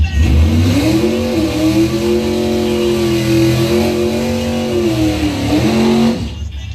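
A drag racing car makes a time trial pass at the Blue Oval Battle 2020 drag strip, its engine roaring loud and close, climbing steadily in pitch through the run before dropping off at the end.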